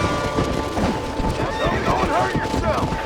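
A horse neighs and whinnies in the Western video game Red Dead Redemption, with hooves clip-clopping, and someone talks over it.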